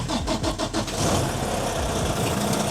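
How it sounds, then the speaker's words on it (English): A truck engine cranks with a rapid stuttering churn for about a second, then catches and settles into a loud, steady idle rumble close by, with no talking. "I'm gonna start up our truck,"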